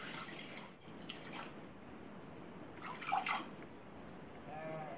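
Water pours and splashes into a pan while making javvarisi (sago) milk payasam, a faint trickling wash with a few brighter splashes partway through, quiet and close.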